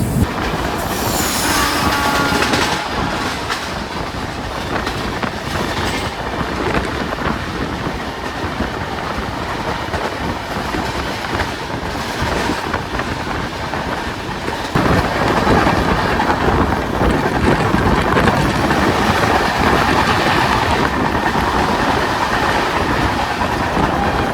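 Shalimar–Puri Dhauli Express, train 12821, passing close by with a loud, steady rail rumble and rhythmic clickety-clack of wheels over joints, sustained throughout with no voices.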